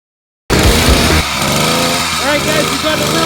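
A Bikeberry motorized bicycle engine starts abruptly and runs loud and close, a buzzy small two-stroke-like drone settling into a steady idle, with someone talking over it.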